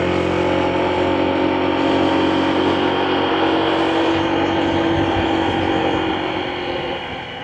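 Honda ADV160 scooter riding along a road, its engine droning steadily and loudly with wind rush throughout, easing off slightly near the end.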